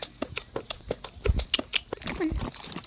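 Horse hooves clip-clopping in a Roblox horse-riding game, a steady series of fairly close, distinct hoofbeats with a few heavier thuds midway and a brief tonal blip near the end.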